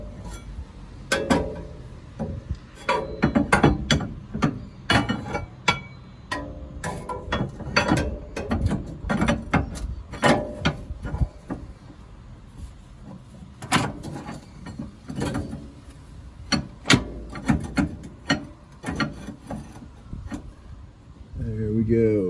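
Metal clanks, scrapes and knocks come close up as a steel brace bar is worked into the rear subframe of a Porsche Boxster, irregular bursts spread over the stretch with intermittent talk.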